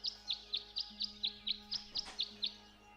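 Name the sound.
birds singing a tune in video game Tangle Tower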